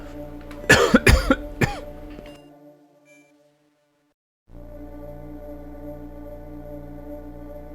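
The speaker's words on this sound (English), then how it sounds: "Another bout of coughing." A person coughs in a harsh close burst of several coughs, then silence, then a faint steady background hum.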